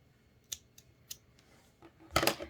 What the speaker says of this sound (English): just pull that yarn through and then snip off the excess